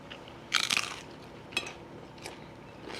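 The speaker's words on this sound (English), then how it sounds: "Nice crunch." A crunchy bite of homemade fish ceviche made with fresh Gulf catch. One loud crisp crunch is followed by a few softer chewing crackles, close and with no talking.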